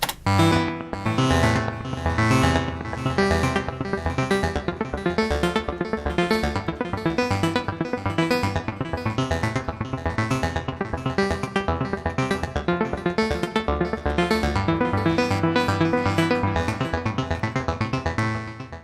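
Synth arpeggio built with Flux in Cubase, an LFO modulating its decay time: a dense, loud train of rapid repeating notes pulsing steadily for nearly twenty seconds.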